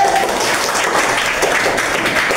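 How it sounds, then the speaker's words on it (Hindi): Moderate applause from a classroom group, a steady patter of clapping that holds at an even level for a couple of seconds. "जोरदार तालियों के लिए"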